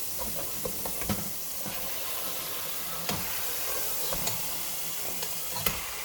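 Pork chops sear in a pan with a steady close sizzling hiss, broken by occasional soft clicks and scrapes, and no one speaks.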